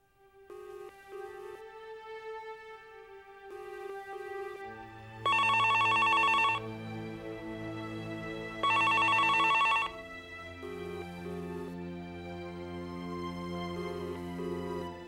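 Telephone ringing unanswered in a drama scene, a repeating electronic ring with two loud, bright bursts standing out, set against soft background music that plays throughout.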